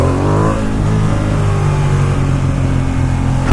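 A Ducati XDiavel S motorcycle accelerates at about half throttle, a loud close engine roar whose pitch sweeps downward as it pulls away, with no talk over it.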